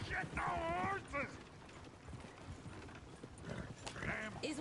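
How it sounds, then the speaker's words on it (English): Horses in a video game, hooves clip-clopping in a rough rhythm beneath excited voices and other game noise, fairly faint. "The horses!"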